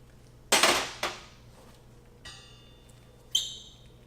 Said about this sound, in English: Put my stove back together.